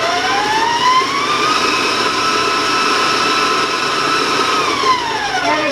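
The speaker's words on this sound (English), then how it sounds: "I'm going to turn my mixer on just for another second or two." An electric stand mixer running steadily at speed while beating cookie dough, a loud close whirring motor whine that rises in pitch at the start and drops away near the end.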